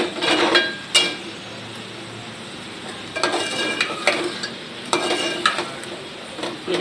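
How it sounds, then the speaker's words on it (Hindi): Gobi gosht with coriander powder stirring and frying in a pot, with bursts of spoon scraping and clatter over a steady low sizzle, loud close scrapes at intervals separated by quieter frying. "अब हम इसकी आंच खोल देंगे और इसको अच्छा से फ्राई करेंगे।"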